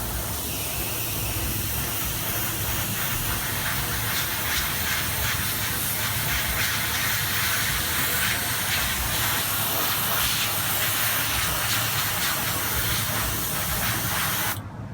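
Green spray paint is sprayed from an aerosol can onto a vinyl toy, giving a loud, continuous close hiss. It runs unbroken for about fifteen seconds and cuts off at the end, with no talking.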